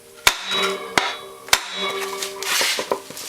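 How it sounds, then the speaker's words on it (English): Sharp metallic hammer blows strike a transmission part of a Polaris Sportsman ATV at an irregular pace, about six hits with ringing tones between them, close up. "So take a hammer and just hit this."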